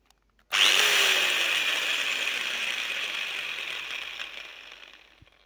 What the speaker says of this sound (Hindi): मैंने ड्रिल बिट काफ़ी अच्छे से यहाँ पे इसके अंदर लगा ली है तो चलिए फटाफट से आपको यहाँ पे थोड़ा सा चेक करके दिखाता हूँ